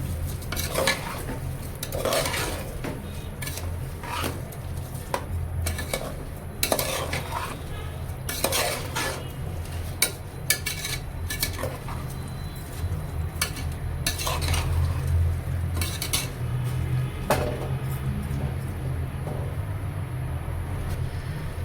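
Ingredients for Maharashtrian masale bhat being stirred and sautéed in a pan, with frequent metal spoon scrapes and clinks over a low steady sizzle, close-up and continuous, with no speech.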